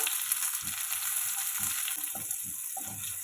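Small shallots sautéing in a hot pan with butter and garlic give a continuous close sizzle, with soft irregular stirring knocks underneath.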